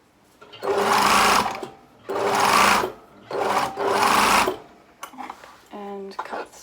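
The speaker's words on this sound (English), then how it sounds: "tuck my shoulder seam in and carry on sewing" A sewing machine runs in three loud, close bursts of steady whirring while stitching a shoulder seam, with brief pauses between them, then some handling noise and a short voice at the end.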